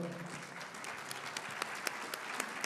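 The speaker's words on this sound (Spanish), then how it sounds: "Un aplauso." An audience at an Industry 4.0 conference in Mexico applauds in a steady, even wash of clapping with a few sharper individual claps, heard from some distance and fairly quiet.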